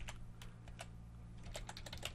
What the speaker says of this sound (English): Now if I start typing in here